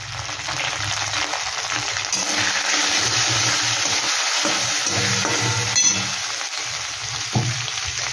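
Cumin and turmeric powder fry in a hot pan with a constant loud sizzle, broken by the soft scrape and knock of stirring.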